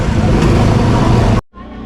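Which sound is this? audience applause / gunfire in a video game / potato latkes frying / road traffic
road traffic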